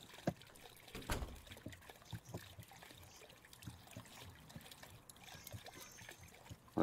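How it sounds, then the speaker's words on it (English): Water runs from a busted faucet in the horror video game Crooked Man as a faint, steady trickle, broken by a few soft clicks and thumps in a quiet room. "Yikes, the water. Is the faucet busted?"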